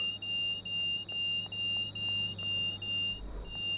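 Repeating electronic warning beep inside a train cab in the Train Sim World 6 simulator, a steady high tone pulsing in regular bursts about every half second over a low engine hum, with no talking.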